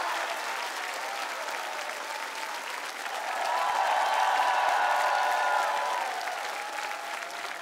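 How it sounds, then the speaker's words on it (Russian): Loud, stormy applause from a TV singing-show studio audience, a broad sustained wash of clapping that swells to its loudest in the middle before easing slightly, with a faint cheer rising through it. "Увы, мы прощаемся с ней, но громкими и бурными аплодисментами."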